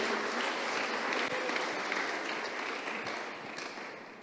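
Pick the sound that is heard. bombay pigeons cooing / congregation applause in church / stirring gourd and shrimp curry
congregation applause in church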